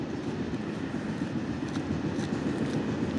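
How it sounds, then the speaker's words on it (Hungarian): A passing freight train rumbles steadily and loudly nearby, a dense continuous roar of wheels and cars with faint metallic clatter on top. "Tehervonat, pont a live közben."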